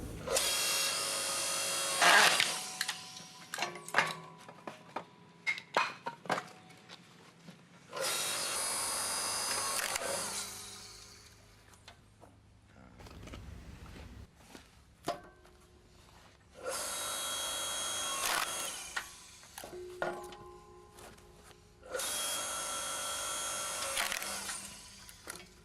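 A Hyundai 4 tonne electric log splitter, model HYLS4000H, runs in several separate bursts of loud motor whine, each lasting a few seconds. Clicks, knocks and creaks from the wood fall in the quieter gaps between bursts.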